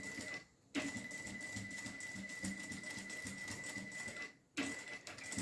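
A sewing machine stitches fabric with a steady, fast mechanical whir and needle clatter, pausing briefly twice before starting again, heard close and alone.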